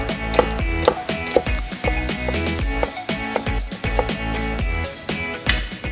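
A knife chops spring onion on a board in quick, rhythmic close taps, steady throughout over a faint musical background.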